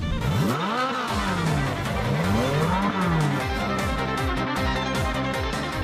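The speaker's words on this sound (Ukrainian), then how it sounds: "Варто лише доторкнутись педалі газу, і двигун починає звучати мецофорте." A car engine revs up and down repeatedly, rising and falling in pitch, loud and close with a throaty roar.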